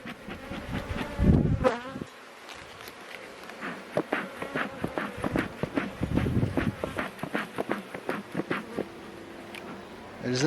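Honeybees at an opened hive during a brood frame inspection, agitated and buzzing in a dense steady drone with close wingbeat passes, broken by brief knocks and handling noises, while a person talks quietly.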